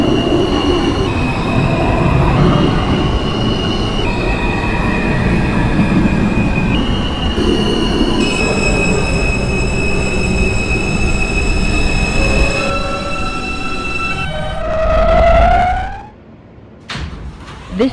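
R160A-1 subway train on the L line between Canarsie and Broadway Junction, simulated in OpenBVE: a steady loud rolling rumble with rising motor whine and squealing wheels, fading to near quiet at the end.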